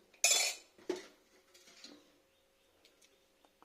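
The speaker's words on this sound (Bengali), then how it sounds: "একটা ভাত দিয়ে নিলাম" Rice is served onto a plate with metal utensils: a sharp clatter of cutlery against the dish, then a second smaller clink and a few faint taps in an otherwise quiet room.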